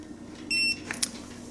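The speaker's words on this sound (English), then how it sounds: "You just hold that down for a few seconds until it beeps." A RelaxUltima neck massager gives a short electronic beep as its power button is held down, one steady tone of about a quarter second, followed by a couple of fainter chirps in a quiet room.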